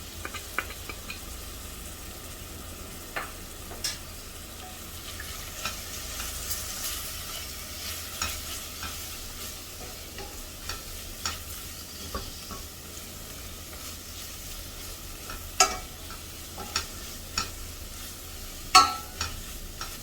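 Turmeric, chili and coriander powders sizzle with tomatoes in a pan for a vegetable dalcha, a quiet steady hiss broken by occasional stirring scrapes and taps, with no talk.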